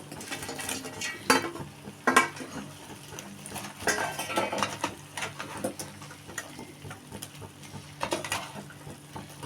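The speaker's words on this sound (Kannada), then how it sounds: "ನೋಡಿ, ಈ ಥರ ಮಿಕ್ಸ್ ಮಾಡಬೇಕು. ನಿಧಾನಕ್ಕೆ ಮಿಕ್ಸ್ ಮಾಡ್ಕೋಬೇಕು." Cabbage manchurian being stirred in hot oil in a pan, with irregular clinks and scrapes of a spoon against metal over a low sizzle, close by and without talk.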